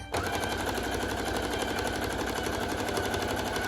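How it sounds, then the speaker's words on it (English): Sewing machine stitching two half-circle skirt pieces together, a loud, steady rapid mechanical whir and rattle running continuously and close up. "Sewing together the 2 half circle skirts together so that I will have a whole circle to work with"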